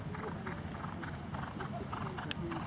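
A horse canters in a dressage test, rhythmic hoofbeats on an arena surface heard under a commentator's talk.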